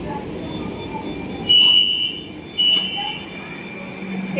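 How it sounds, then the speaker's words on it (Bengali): A metro train pulls into Sakher Bazar station on the Joka line with a low rumble, and short electronic chime tones ring out twice over it. "ট্রেনের এই আওয়াজটা সত্যি খুব ভালো লাগে"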